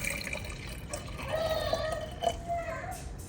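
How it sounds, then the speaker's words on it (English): Water being poured into the back reservoir of a baby food maker, up to the 100 ml line, as a soft, steady trickle with a faint rising tone, close and quiet, with no talking over it. "I'm gonna fill mine to the highest line, which is 100 milliliters of water,"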